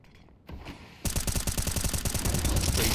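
Rapid bursts of gunfire in Counter-Strike, beginning with a short volley and then erupting into a loud, sustained stream of closely spaced shots that builds toward the end.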